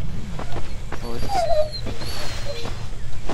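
In the video game 35MM, a dog on a rural tractor site lets out high, drawn-out whimpers and whines over steady low ambient hum, with brief sliding cries amid other quiet game sounds.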